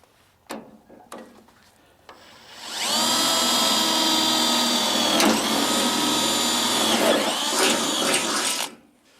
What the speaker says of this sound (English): Now let's drill our holes before we cut this bar off.